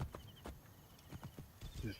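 Horse hooves clip-clopping in Assassin's Creed Origins, a quick uneven series of soft thuds under game ambience with a voice talking over it.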